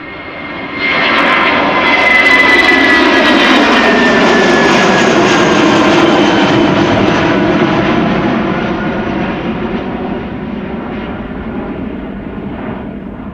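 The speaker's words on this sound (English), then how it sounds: "Airbus A320 going to London Heathrow, one of the many flights between Amsterdam and London." A twenty-year-old Airbus A320 jet taking off at Amsterdam Schiphol, a loud roaring engine that swells quickly, holds a powerful sustained roar with a whining tone, then slowly fades as it departs.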